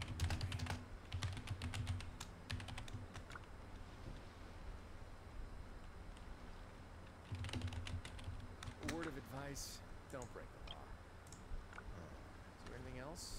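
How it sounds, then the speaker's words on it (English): Rapid clicking of computer keyboard typing in bursts, with a voice talking over parts of it and a short whoop of speech near the middle. "Whoa, my typing."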